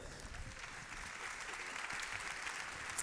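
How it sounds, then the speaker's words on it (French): Faint audience applause at a French startup awards ceremony, a soft, steady patter of many hands clapping from a distance, with a low murmur beneath. "on vous applaudit, on vous raccompagne"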